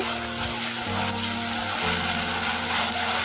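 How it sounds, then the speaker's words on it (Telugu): Ginger garlic paste fries in hot oil for a spicy chicken fry, giving a steady, dense sizzle that runs unbroken and fairly close, with a low hum beneath it. "ఈ అల్లం వెల్లుల్లి పేస్ట్ మంచిగా పచ్చివాసన పోయేదాకా ఫ్రై చేసుకోవాలి"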